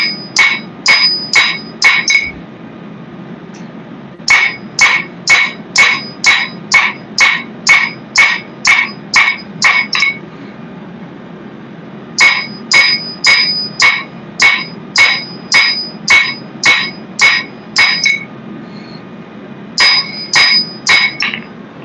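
Hammer blows forge 5160 coil spring steel into a knife blade, ringing metallic strikes in steady rapid bursts of about eight to ten, separated by short pauses, close and loud with no talking.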